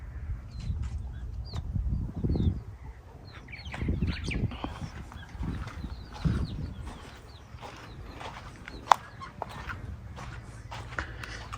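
Small chickens in a small homestead coop give soft, scattered clucks and scratching, fairly quiet, with occasional sharper calls and knocks and no talking.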